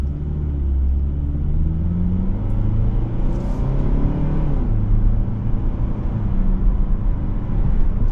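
A 2025 Kia K5 GT-Line AWD pulls away from a stop in Sport mode, its engine note climbing in a smooth, steady rumble heard from inside the cabin.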